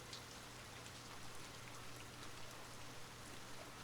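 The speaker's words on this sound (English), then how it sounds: "The rain continues its gentle drumming above" Gentle rain falls steadily in an even, soft patter of drops on a surface, a quiet and unbroken wash of sound with no voices.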